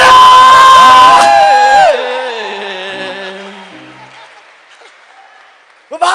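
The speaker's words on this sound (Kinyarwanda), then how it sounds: "Applaudissez pour eux." A loud crowd cheers and shouts, voices swelling then fading into scattered applause and whoops before a short burst of speech.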